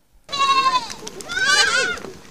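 Goats bleating loudly and close at a Samburu night camp, two long wavering calls overlapping one another across the moment with several animals joining in.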